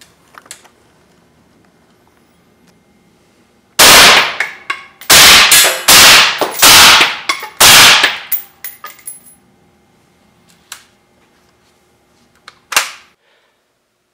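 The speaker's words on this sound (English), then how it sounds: "now we're going to do 5 rounds of M855 penetrators out of a suppressed Tavor." A suppressed Tavor rifle fires five M855 penetrator rounds at an armor plate. The sharp, loud cracks come in quick succession, then a single fainter impact sounds a few seconds later.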